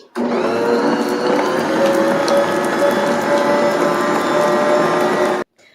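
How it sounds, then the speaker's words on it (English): Stand mixer beating cream cheese and butter, a loud steady motorized whir with gear rattle running continuously and cutting off abruptly near the end. "we're going to start off in the mixer with the cream cheese and the butter, and we're going to mix them until they're nice and fluffy"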